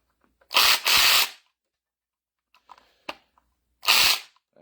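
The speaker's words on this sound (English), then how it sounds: "This is a cheap little Walmart impact." A cheap cordless Walmart impact wrench fitted with an extension tightens a bolt on a mini excavator hydraulic pump, firing two close, loud rattling bursts, then a couple of faint clicks and a final burst.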